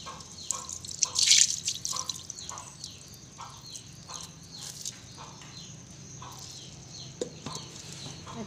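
Rinse water is poured off rice being washed in a rice cooker pot, a close trickling and dripping splash that tapers into scattered drips, with faint bird calls in the background.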